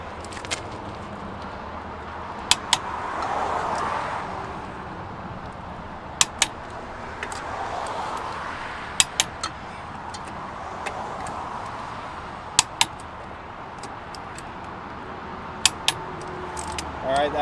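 Lug nuts on the wheel of a 2022 Rockwood RV trailer are tightened, giving sharp metallic clicks in paired bursts every few seconds over a low ambient hum.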